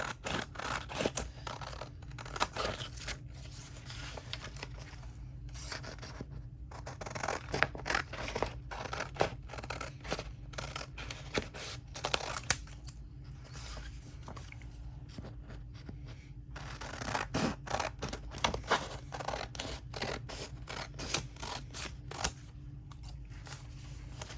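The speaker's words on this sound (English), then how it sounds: "I'm going to be brave and just do it the old-fashioned way with scissors." Scissors snip through paper ephemera at close range, quiet, irregular crisp cuts and rustles following one another in a busy rhythm with brief pauses.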